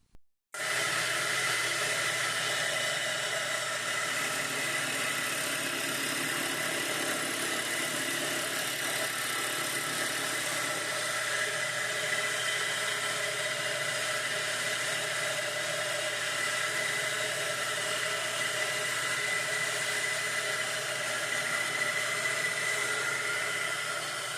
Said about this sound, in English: Jigging it up on the table of the mill like this and face cutting that with an end mill